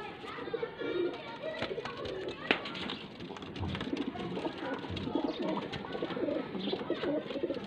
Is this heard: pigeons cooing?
yes